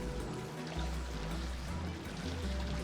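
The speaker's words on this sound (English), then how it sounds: "Cool slush geyser." Water gushing steadily from a cool slush geyser in the Oxygen Not Included: Spaced Out game, a continuous dense pouring and splashing wash that fills the whole stretch at moderate loudness with no talk.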